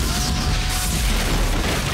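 Building blowing up in the 1998 film The Mask of Zorro: a loud, sustained explosive rumble with dense low-end roar and crackling debris filling the whole two seconds, with no break.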